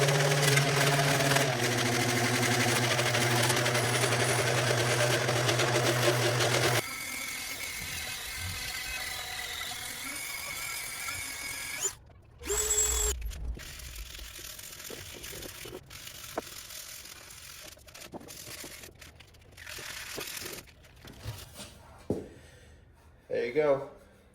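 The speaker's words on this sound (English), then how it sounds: "Time to sand." Power sander working hardened Bondo filler on a molded gas tank for a long chopper, a loud steady buzzing drone that runs continuously, then shifts lower and breaks into intermittent bursts and scraping handling noises.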